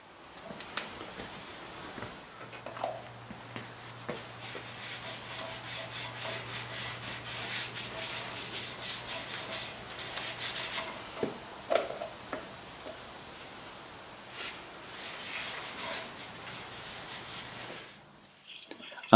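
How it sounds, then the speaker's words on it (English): Cloth wiping a Harley motorcycle wheel clean with rubbing alcohol, a steady close rubbing and scrubbing with rhythmic strokes, softer pauses and a faint tone underneath, without talk. "I clean the wheel with rubbing alcohol."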